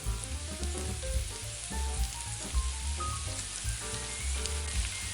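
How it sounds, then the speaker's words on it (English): A sauce sizzles in a pan with beef and broccoli over low-medium heat, a steady crackling fry with dense popping throughout, close and continuous. "Now we're adding the sauce we made to the pan,"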